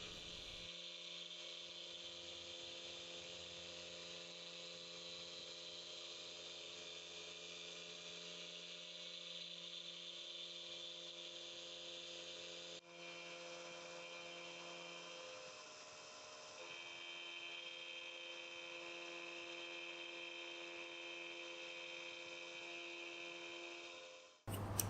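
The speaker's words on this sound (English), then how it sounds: "What you see here is the first cut we tried on this machine, and it's on real time." A homemade DIY CNC machine cutting its first workpiece, a continuous high whirring spindle whine with steady tonal hum that shifts pitch partway through as the cut changes, heard alone and fairly faint throughout.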